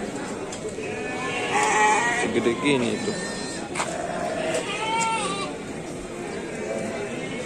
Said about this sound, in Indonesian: Ini domba